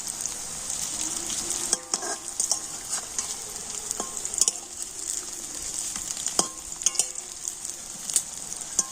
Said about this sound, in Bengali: ধোকাগুলো কিন্তু আমি ভেজে নিয়েছি